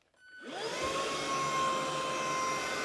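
A Cecotec Conga Rockstar 12500 vacuum cleaner spins up from silence into a loud, steady whirring drone with a rising whine, running continuously up close and alone.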